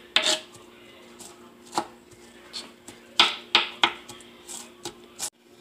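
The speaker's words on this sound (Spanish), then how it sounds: "Se pica también finito para que se mire todo igual." Vegetables for Honduran chimol salad with cabbage are finely chopped with a knife on a board, about a dozen crisp, close cuts landing in an uneven rhythm with short pauses, no talking.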